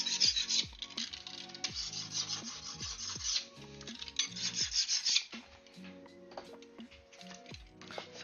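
Foam is shaped by hand with a rasping tool in a series of repeated scraping strokes, close and moderately loud, with short pauses between passes and no speech.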